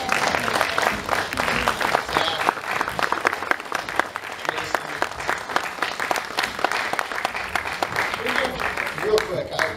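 Festival audience at a small-town monster film kickoff event applauds, dense steady clapping filling the room from start to finish, with some voices mixed in.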